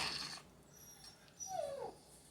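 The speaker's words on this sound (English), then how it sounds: "And don't mind my pup. I think he wants some too." Pet dog begging for peach cobbler gives a faint, high whimper that slides down in pitch, over quiet kitchen background noise.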